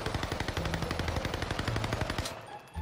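Rapid bursts of machine gun fire in a shooting video game, a steady loud stream of gunshots running almost the whole clip before cutting off near the end.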